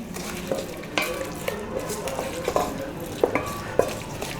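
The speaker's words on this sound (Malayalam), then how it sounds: "നമുക്കൊന്ന് മിക്സ് ചെയ്ത് കൊടുക്കാം" A spoon scrapes through chicken biryani with fried onions in a pot, soft rhythmic stirring strokes over a low sizzle, with no voices.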